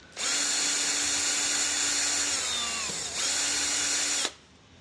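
Power drill working loose the fender screws on a motorcycle, one long steady whirring run with a brief dip partway through, close and loud before stopping abruptly.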